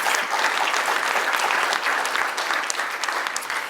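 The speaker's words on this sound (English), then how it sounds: "Let's give them a great round of applause." A large audience applauds students and graduates who took home an award at a Simon Fraser University President's Address, the clapping dense, loud and steady for several seconds.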